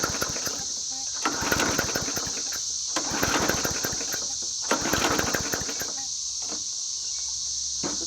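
Huskee 22-inch push lawn mower in rough condition running unevenly, a steady engine drone with surging rattly bursts that swell and drop every couple of seconds, fairly close.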